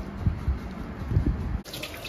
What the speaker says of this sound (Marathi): तर अशा प्रकारे आपण धुवून घ्यायचं आहे पाण्यातून.